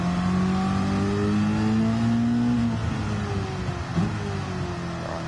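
In a racing video game, a Trans Am race car accelerates in third gear with a loud, steady engine drone whose pitch climbs and then eases off.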